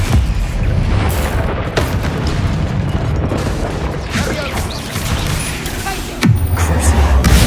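Confringo explosive spells go off in Hogwarts Legacy combat: loud, deep booms burst over a dense, continuous rumble of battle effects, with a heavy blast near the end.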